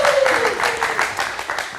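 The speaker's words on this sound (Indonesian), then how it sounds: "kita kasih tepuk tangan sekali lagi" Studio audience applause on an Indonesian late-night live talk show, steady dense clapping throughout at moderate level, with a faint falling whistle-like tone near the start.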